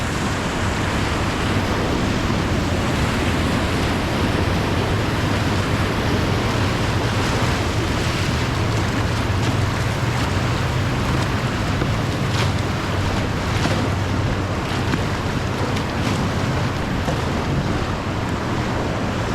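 A Soul Kayaks Hammer kayak is paddled through river water, heard as a constant loud wash of rushing water and wind buffeting close to the microphone, with no voices.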